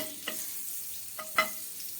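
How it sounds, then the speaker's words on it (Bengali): A spoonful of butter melts in a hot frying pan with a soft, steady sizzle, broken by a few light clicks of a utensil against the pan. "এখানে একটা ফ্রাই প্যান বসিয়ে দিয়েছি গরম করার জন্য এখানে এক চামচ বাটার আমি নিয়ে নিয়েছি বাটারটা দিয়ে দিচ্ছি"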